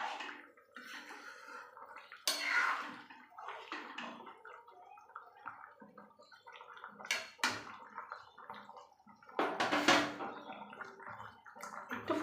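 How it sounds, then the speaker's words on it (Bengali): A ladle stirs a pot of homemade chicken soup with soft sloshing and gurgling of liquid in uneven bursts, fairly faint and close. "এবার একটু সামান্য হাতা দিয়ে এটা মিশিয়ে নিচ্ছি।"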